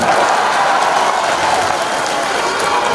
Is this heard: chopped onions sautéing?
no